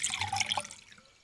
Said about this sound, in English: Fresh water straight from the octopod sink.